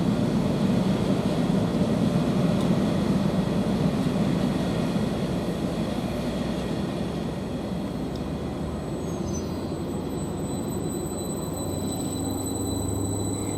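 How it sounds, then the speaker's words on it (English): A Greater Anglia class 755 train, unit 755 332 bound for Ipswich, pulling away from Derby Road station as a steady low rumble that eases slightly, with a faint high whine appearing later. "Now the Great Anglia train's just departing behind me, which is the 755 332 return back to Ipswich."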